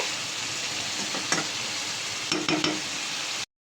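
Taro stolons frying uncovered in a pan, a steady sizzle with a few brief scraping stirs, close and alone without talk.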